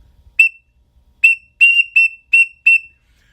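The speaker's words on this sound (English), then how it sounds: "you have the whistle sound of the teal" Short, sharp whistled peeps from a teal duck call, one, a pause, then five quick notes in an even rhythm, clear and close in silence.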